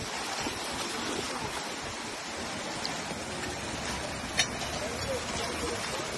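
A river rushes around a lunch table set in the water at a holy mountain spot, steady broadband flow throughout with one brief clink partway through.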